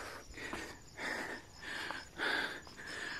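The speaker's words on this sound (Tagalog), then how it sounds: "Narinig yung hingal ko." Heavy, rhythmic panting after a mountain climb toward a view deck near General Santos: four loud, ragged breaths close to the microphone, each a rasping exhale with short gaps between.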